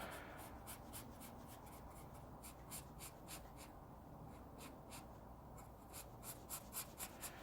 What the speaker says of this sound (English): Now I can color with this handy dandy Sergeant Art brush pen.